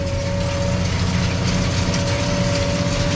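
A tractor engine idles steadily and close by, a constant low mechanical drone with a faint ticking rattle and a thin steady whine running throughout, with no voices.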